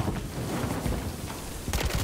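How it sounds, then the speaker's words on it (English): Rapid machine gun fire from the video game Call of Duty Modern Warfare 3, a dense loud continuous burst of gunfire with a sharper volley near the end. "It's a machine gun!"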